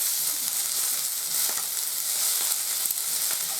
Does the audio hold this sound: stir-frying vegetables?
yes